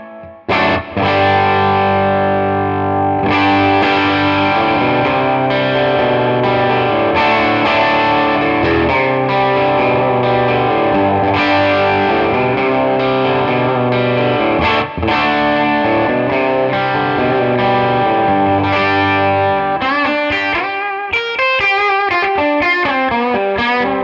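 Distorted electric guitar with a bolt-on neck and neck pickup, playing a rich rock tone. Loud sustained chords ring continuously, then a stretch of brighter single-note picking closes the passage, with no voices over it.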